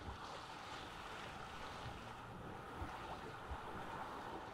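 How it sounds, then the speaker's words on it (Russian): Wind and water surround a small sailing boat at sea in The Witcher 3: Wild Hunt, a constant rushing whoosh of waves and gusts with low thumps that could be the sail flapping, no talking. "Отклонись немножко от ветра, у тебя парус хлопкает."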